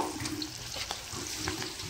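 Gobi 65 cauliflower pieces dropped into hot oil, giving a close, steady sizzle with scattered crackles and pops.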